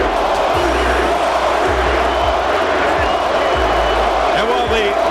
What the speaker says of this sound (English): while the sellout crowd chants, Corey, Corey